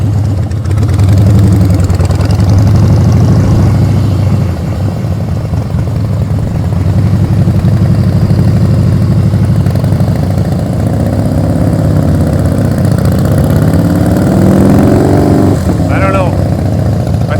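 A motorcycle engine running steadily during riding practice, with the loud drone changing slightly in pitch as the throttle shifts and a voice talking briefly over it.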